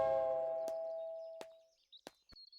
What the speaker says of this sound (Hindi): मैंने घर के कंपाउंड में जाके डोरबेल बजाई